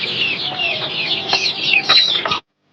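Chickens cluck close by in a continuous busy chorus of short, overlapping calls that stops abruptly near the end, with no voices.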